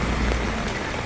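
Rain falls steadily while someone walks outdoors, a dense close hiss of drops on surfaces with no pauses over a very short stretch.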